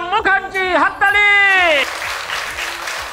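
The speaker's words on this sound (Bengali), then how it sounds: "হাততালি।" A studio audience at a televised talent show breaks into loud, sustained clapping after a brief tonal vocal flourish, the applause filling the stage for over a second.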